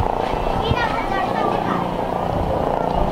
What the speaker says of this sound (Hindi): हेलीकॉप्टर किधर जा रहा है यार?